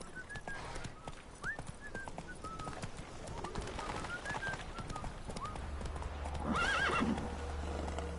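A horse trots through The Witcher 3 with steady clip-clop hoofbeats beneath birdsong and ambient wind, then gives a clear whinny near the end.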